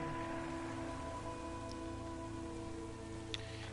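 Steady rainfall in the video game Sunset Overdrive, a continuous soft hiss of rain under a faint electronic hum, with no talking.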